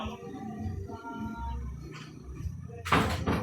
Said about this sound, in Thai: แป๊บหนึ่งปิดประตูข้างหลัง